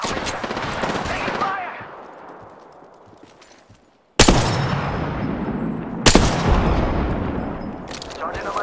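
Bursts of automatic gunfire in an Apex Legends firefight, loud and close, fading out then cutting back in with sharp new volleys around the middle and later, with a voice speaking over the shooting.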